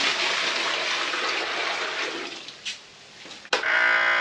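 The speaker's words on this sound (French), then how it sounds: "on va mettre l'eau là-dedans" Water pours steadily into a plastic water pistol, a continuous splashing rush that tapers off, then a sharp plastic click and a renewed flow near the end, with no talking.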